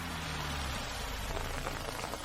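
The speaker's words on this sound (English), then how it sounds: "Paris rains are brutal for cabs." Steady rain falls on a Paris street, a dense even hiss of drops on hard surfaces with no pauses, moderately close and unbroken by voices.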